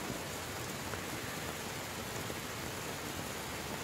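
Steady rain falling in a Thai forest monastery, a dense, even hiss of drops that stays constant and close with no breaks and no voices.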